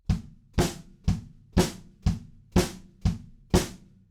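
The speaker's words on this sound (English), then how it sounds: "Then to that, we add snare drum." Steady drum beat, kick drum hits alternating with sharper snare cracks, an even, moderate groove played alone.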